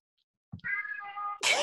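A cat gives a rising chirrup that stretches into a short trilling meow, ending in a louder, sharper burst, close to the listener.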